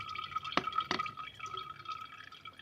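Falsa juice is poured through a strainer into a jug, a faint steady liquid trickle with a couple of sharp splashing drips early on, close and quiet with no talking.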